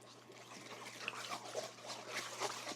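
A flat gravy whisk stirs sourdough starter into liquid ingredients in a bowl, making soft, irregular sloshing and trickling sounds with faint scraping, steady and close, with a low hum in the background.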